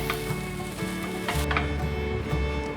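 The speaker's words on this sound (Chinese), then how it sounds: "把米饭和绿花椰菜米 拌匀" Cooked rice and riced broccoli being stirred and tossed in a wok, a continuous close scraping and soft sizzling with light ticking taps of the utensil against the pan, no speech.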